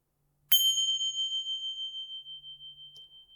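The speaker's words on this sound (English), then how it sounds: "If you'd like to ring these 2 bells" A bell is struck once to close a traditional hatha yoga session, giving a bright ding that rings on and slowly fades in a quiet room.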